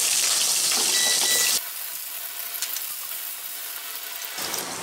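Garlic frying in cooking oil and sesame oil in a wok, a loud hissing sizzle at first that drops abruptly to a quieter, steady crackle with a brief swell near the end.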